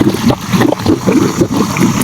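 Irrigation water rushes and gurgles as it flows into a farm field, a loud, close, continuous churning with uneven pulses and no speech.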